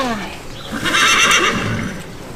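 A pony neighs loudly and close by in a single drawn-out whinny at a cross-country riding event.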